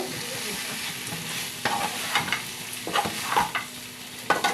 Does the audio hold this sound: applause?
no